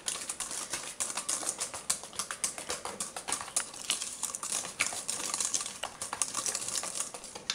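Oat and raisin cookie dough, vegan, is stirred in a bowl with a utensil, giving quick continuous scraping and clicking strokes up close with no speech.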